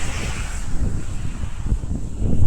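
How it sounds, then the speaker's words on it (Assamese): Wind gusts and buffets against the microphone in a low, rumbling rush that swells louder toward the end. "খুব ঠাণ্ডা বতাহ মাৰি আছে আৰু খুব অলপ অলপ বৰষুণ দি আছে।"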